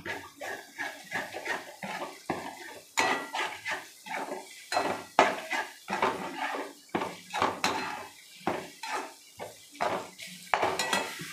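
Egg frying in a pan in a village cooking setting, with repeated metallic scrapes and clinks of a utensil stirring against the pan over a soft sizzle, in an irregular rhythm of close strokes.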